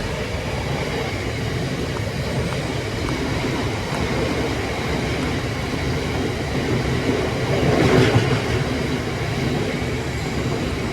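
A freight train rumbles past continuously with rolling wheel noise and faint clattering, growing slightly louder near the end as cars roll by close.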